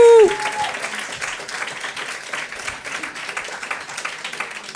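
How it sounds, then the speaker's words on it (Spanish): A studio audience on a live season-finale comedy show breaks into steady, moderately loud applause that holds evenly for several seconds after a short tone at the start. "Podéis aplaudir."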